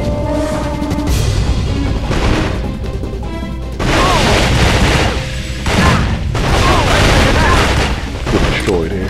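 Video-game gunfire shooting out lights: dense volleys of loud shots mixed with crashes and smashing bursts that run almost without pause. Close and harsh throughout.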